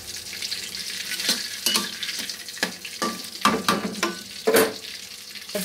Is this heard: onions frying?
yes